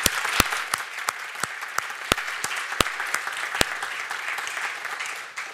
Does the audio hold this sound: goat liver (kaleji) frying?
no